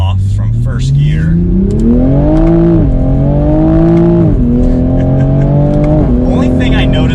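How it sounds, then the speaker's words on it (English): Toyota A90 Supra with traction control off accelerating hard from first gear, the engine note climbing through several gear changes with brief dips between them, loud and close, with a voice speaking briefly at the start. "So we'll do a better straight line test now that traction is off from first gear."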